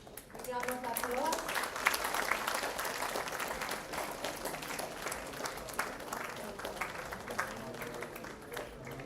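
Steady applause from a conference audience, sustained clapping at moderate volume with a faint voice mixed in.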